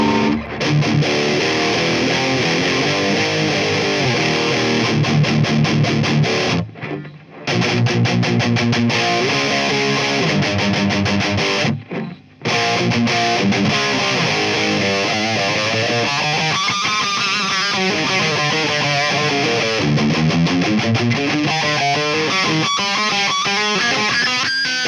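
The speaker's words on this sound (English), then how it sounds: "let's hear what just the op amp sounds like" An electric guitar plays through an op amp stage of a DOD 250 overdrive pedal circuit without diode clipping, producing a gritty, fuzzy tone with strummed chords and brief pauses, loud and close.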